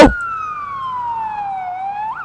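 A police car siren in a Polish farming video game wails alone after a brief sharp hit at the start, one long slowly falling tone that swings up again at the end, clear and fairly close.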